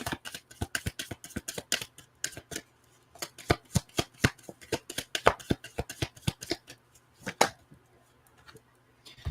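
Moonology oracle cards being shuffled at close range, a fast series of crisp riffling snaps and slaps in rapid bursts across the whole stretch, with no talking.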